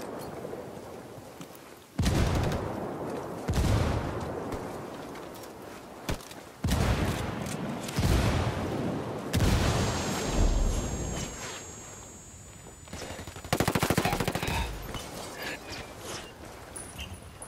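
Video game gunfire in Ghost War: repeated heavy bursts of shots and blasts crackle in waves, loud and close, with quieter rumbling stretches between volleys.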